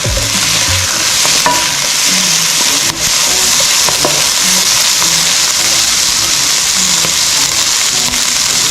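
Brussels sprouts stir-fried in oyster sauce over high heat in a wok, with loud, constant sizzling and frying hiss and the scrape and clatter of stirring, close and dominant.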